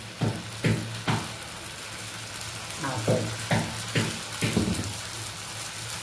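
Set dosa batter sizzles on a small oiled tawa, a steady soft frying hiss broken by several sharp taps and scrapes of utensils near the pan.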